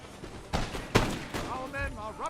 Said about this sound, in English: the Prussian Fusiliers firing back down